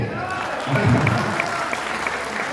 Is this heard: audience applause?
yes